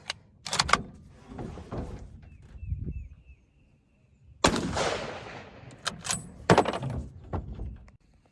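A 30-06 armor-piercing rifle round fired at a Ridgeback M4 body armor plate, heard as several sharp, loud gunshot cracks with trailing reverberation and clattering impacts between them, no talking.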